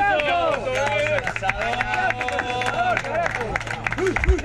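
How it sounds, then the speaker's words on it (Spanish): A small group at a barbecue gathering claps steadily for the grill master, close and fairly loud, mixed with chatter and voices speaking over the clapping throughout. "Un aplauso para el asador, che."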